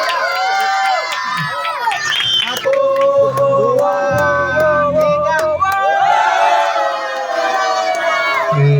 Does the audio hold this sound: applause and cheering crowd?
yes